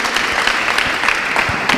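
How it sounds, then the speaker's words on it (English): Audience at a book reading applauding the readers, a brief burst of dense, fairly loud clapping from many hands. "Please, can we give our readers a wonderful round of applause?"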